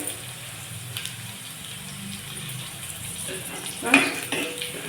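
Red chillies fry in a pan for a village-style ponnaganti leaf curry, with a soft, steady sizzle and a few stirring scrapes, and a brief clink of a utensil against the pan near the end.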